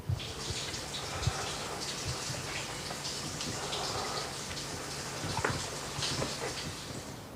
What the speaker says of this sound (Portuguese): o barulho da água